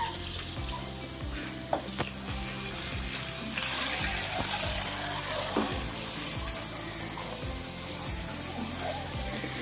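Eggs fry in a pan seasoned with turmeric, giving a continuous wet sizzle that mixes with watery sounds and scattered utensil knocks.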